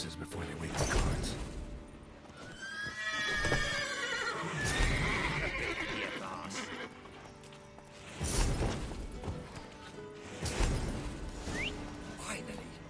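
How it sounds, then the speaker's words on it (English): Horses in The Witcher 3 video game neigh and whinny several times in bursts, with hoof clip-clops and game sounds around them and a voice talking at points. "Gotta call all the horses before they wake the guards."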